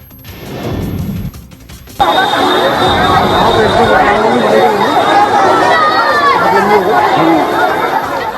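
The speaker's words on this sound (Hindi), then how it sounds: "राशन और नकदी के लिए जुटी गरीबों की भीड़" Poor people crowd together for a handout of rations and cash outside a legislator's residence in Moradabad, producing loud, dense chatter and shouting. A quieter, muffled stretch comes first, then the noisy babble cuts in abruptly and continues unbroken.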